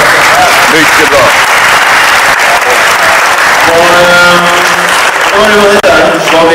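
Loud, sustained audience applause at the prize ceremony of the 2013 Swedish Athletic Fitness championship, +180cm class. Dense clapping fills the room throughout, and some voices and tonal sounds rise over it in the second half.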